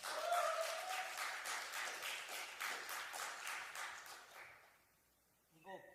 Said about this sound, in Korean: 박수를 치려면 세게 칩시다.